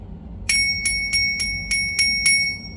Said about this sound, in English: It's just a cheap little bell.